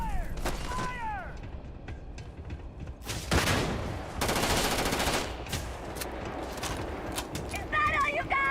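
Bursts of automatic gunfire and broadband blasts from a Starfield firefight, loud and dense, with sharp shots scattered through and a game voice briefly audible between volleys.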